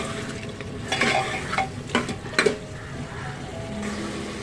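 Mutton salan is stir-fried on high flame in a pan, an even sizzle broken by several sharp spoon scrapes and clinks in the middle, close and without speech.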